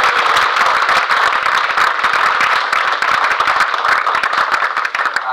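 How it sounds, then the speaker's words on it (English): A crowd at a retirement dinner claps loudly and steadily, a dense, continuous roar of many hands that fills the room without a break and carries on to the end. "let's have a round of applause for Mary Gessinger."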